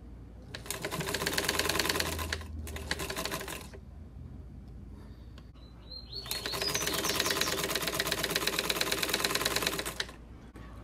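A sewing machine stitches a homemade fabric protective face mask in two long bursts of rapid, steady mechanical chatter, loud and close, separated by a brief pause, with no talking.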